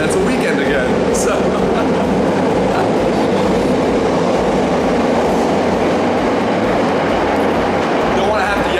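A loud train rumbles steadily past close by, a dense roar with rattling wheels that fills the whole clip.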